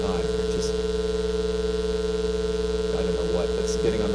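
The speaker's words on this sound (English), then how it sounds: "I hear two pitches, but I also hear beating at the same time." A 440 Hz sine tone multiplied by a 10 Hz sine produces two close pitches that beat steadily, a sustained electronic hum with a rapid, even pulsing wobble throughout.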